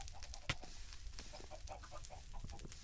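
Chickens cluck repeatedly in a Minecraft game, in short faint calls over steady background game noise.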